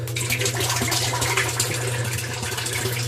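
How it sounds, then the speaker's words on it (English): Water pours steadily from a sump pump outlet pipe in winter, a continuous close splashing rush with a low hum beneath, no pauses. "And there's my water coming back out. It's dripping out."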